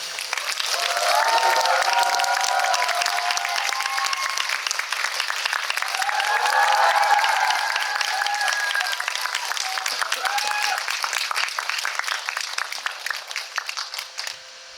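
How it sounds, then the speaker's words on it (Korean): A theater audience gives warm, sustained applause as a film's director and actors walk onto the stage at a Sunday special screening event, steady clapping with a few cheers lasting throughout. "입장하실 때는 뜨거운 박수로 환영해 주시면 감사하겠습니다"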